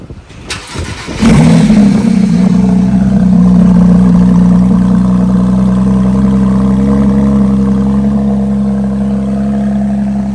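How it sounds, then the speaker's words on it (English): A Porsche 911 Speedster of the 991 generation cold-starts: a brief crank bursts into a loud, steady high idle that holds close and alone for about nine seconds. "cold start on a 991 Speedster."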